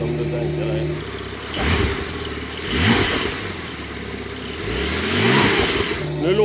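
A Porsche 992 Turbo S fitted with a Ferrita Powerpack exhaust idles, its engine note swelling in a few low rumbling surges that rise and fall, with people talking over it.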